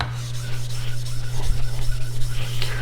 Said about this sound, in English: This stone definitely needed some flattening.